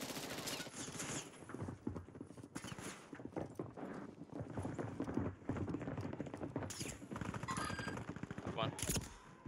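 Sniper and automatic gunfire in Call of Duty Warzone, with rapid cracking shots and bursts running almost continuously beneath busy game noise, fairly loud and close.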